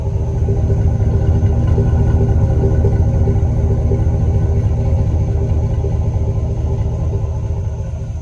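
A 2002 GMC Sierra with a Flowmaster Super 10 exhaust idles with a deep, throaty rumble that holds steady and loud throughout, heard alone at close range.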